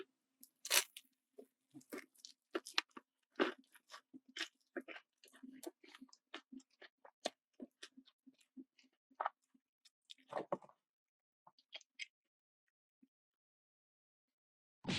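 Close, crisp crunching and chewing of Nene Chicken fried chicken with wasabi mayo sauce, irregular bites spread across the clip with quiet gaps between them.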